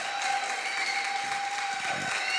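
A church congregation at a thanksgiving service in Metz claps steadily for the Lord, a continuous wash of applause from a crowd, moderately loud and unbroken throughout.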